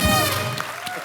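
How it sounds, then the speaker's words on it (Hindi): A television comedy show studio audience claps loudly in a short, dense burst of applause that thins out quickly. "जोरदार तालियां हिमेश सर के लिए।"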